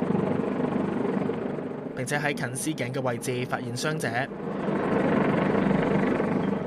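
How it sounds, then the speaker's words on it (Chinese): A Government Flying Service rescue helicopter at Lion Rock hums steadily with a rapid rotor chop throughout, loud and close, under a news narrator's voice. "政府飞行服务队嘅直升机赶到狮子山协助救援"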